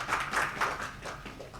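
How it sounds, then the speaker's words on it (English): An audience applauds a woman at a round table conference, a steady patter of clapping from many hands in a room, fairly quiet and continuous throughout. "we'll give her a round of applause"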